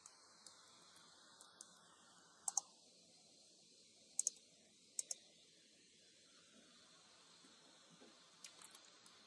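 Sparse, sharp computer mouse clicks while setting up a new repository, a handful of single and double clicks spread over a quiet background, close but soft.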